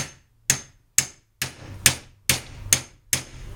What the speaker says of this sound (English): take the hammer and you give it some good force jars